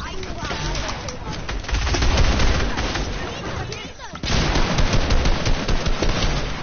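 Rapid video game gunfire crackles loud and dense throughout, with a short break near the four-second mark before another burst resumes; voices are faintly mixed in underneath.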